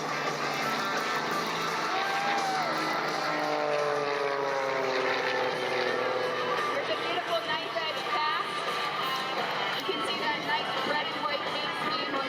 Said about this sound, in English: This is a certified 1984 Pitts SQE model with an AEROHIO live-moving 540 engine producing